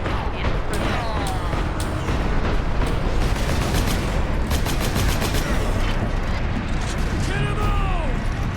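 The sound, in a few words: gunfire in the video game Space Marine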